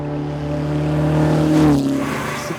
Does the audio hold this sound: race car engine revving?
yes